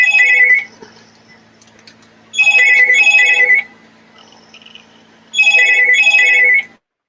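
A telephone rings loudly in a room, sounding three separate bursts of a double electronic trill with short silent gaps between them and no talking.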